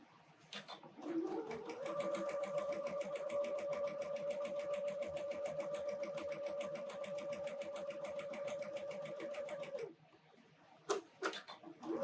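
A sewing machine stitches appliqué in one steady, rapid run of about eight seconds, close and even. It stops abruptly, followed by a few small clicks and handling sounds.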